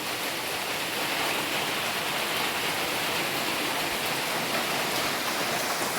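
Steady rain falls outdoors along a village route in Garut, a dense unbroken hiss of drops at constant loudness with no pauses and no voices.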